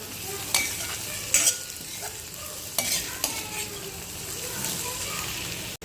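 Vegetables for a pulao are stirred in a sizzling pan: a continuous frying hiss runs throughout, punctuated by several scraping and clattering strokes of a spoon against the pan.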